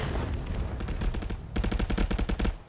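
Rapid automatic gunfire from the VR shooter Contractors rattles in fast, evenly spaced bursts, loud and close, with a brief lull before a second sustained volley.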